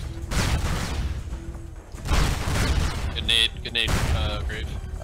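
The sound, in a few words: grenade explosion in SOCOM 2 video game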